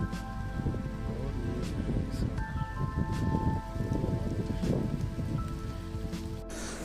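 Steady rain falls in a national park on a day of sun and wind, a dense, continuous patter of drops on surfaces that stays close and even without pause.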